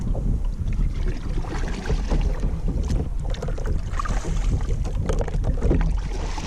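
Paddle strokes from a Pelican Castaway fishing kayak, with continuous close splashing and sloshing water and wind buffeting the microphone, no voices.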